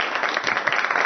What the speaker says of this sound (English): let's have a nice big round of applause for Michelle McNamara.